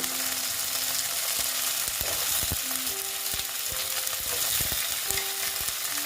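Moringa drumsticks and tomato stir-fried in a pan for a mustard-poppy seed chochchori, with a steady, close crackling sizzle and scattered scraping stirs throughout, no voices.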